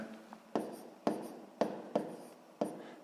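A pen writing on paper during a sixth-grade math exercise, five quick scratchy strokes in a loose rhythm, close and fairly quiet with no talking.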